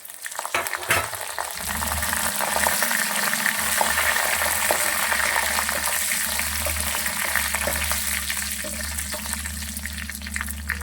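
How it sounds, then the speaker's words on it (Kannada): Dried red chillies frying in hot oil with browned garlic while cooking radish leaf curry produce a steady, close sizzle with stirring scrapes throughout, no voices. "ಅದಕ್ಕೆ ನಾನು ಒಣಮೆಣಸಿನ್ಕಾಯಿ ತೊಗೊಂಡಿದ್ನಲ್ಲ ಹಾಕ್ತಾಯಿದ್ದೀನಿ"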